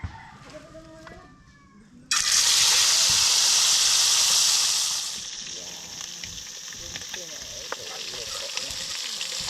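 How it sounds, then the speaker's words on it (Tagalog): Fish goes into a hot frying pan and erupts into a loud, broad sizzle, which eases after a few seconds into a steadier frying hiss with small crackles, following a quieter stretch of faint kitchen sounds. "mainit na yung kawali mga ka-channel. Ilalagay ko na yung isda."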